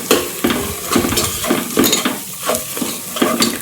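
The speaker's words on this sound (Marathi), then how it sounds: "आता हे तेल सुटेपर्यंत भाजून घ्यायचं." Spice masala of Kashmiri red chili powder, turmeric and kitchen king masala roasting in oil in a pan, with rhythmic stirring scrapes repeating about twice a second over a steady close sizzle.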